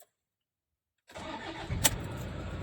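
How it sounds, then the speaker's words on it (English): After a second of silence, a car's engine cranks and catches, settling into a steady idle with a brief sharp click partway through, close and clear, no voices. "Let's start the engine."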